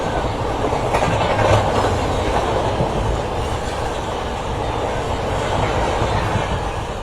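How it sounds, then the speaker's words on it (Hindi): Shivganga Express overtaking on a parallel track before dawn, a loud, steady rush of train noise with rolling wheel clatter sustained throughout, heard from inside a moving train. "एक बार फिर से शिवगंगा एक्सप्रेस बिल्कुल पैरेलल में ओवरटेक करने वाली है हमको"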